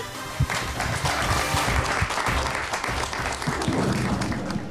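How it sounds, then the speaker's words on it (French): Arena crowd applauding at a junior hockey game between the Braves and Laval at Arena Salaberry, a dense, steady clapping with some thumps throughout. "On va faire une main d'applaudissement."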